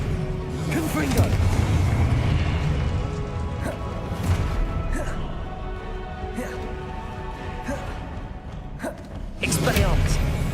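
Confringo blasting spell explosions in Hogwarts Legacy combat, repeated sharp bursts and crashes scattered through busy battle noise, with a voice calling out spells over them.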